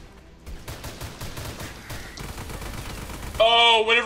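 Gunfire from a weapon in the video game Orion: Prelude comes in rapid bursts of shots, fairly loud, followed by a burst of a brighter synthetic game sound near the end.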